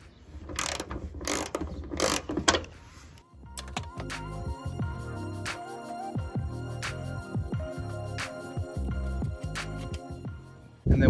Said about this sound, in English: retighten this, and then remove this top 12mm nut